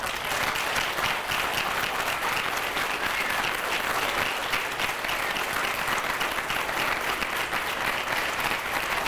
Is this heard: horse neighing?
no